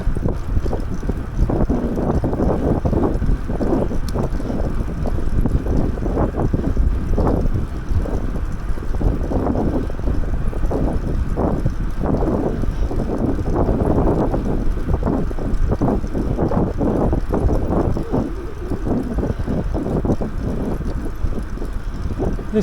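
Strong southeast wind off the ocean at Hervey Bay, Queensland, buffeting the microphone with a loud, continuous rumble and gusting roar.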